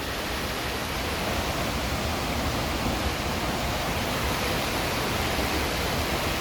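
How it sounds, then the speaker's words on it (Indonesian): A hot sulphurous mountain river on the slopes of Mount Sorik Merapi flows in a steady, loud, broadband rush, continuous and close, with no voices over it. "Sungai ini masih panas sampai di sini."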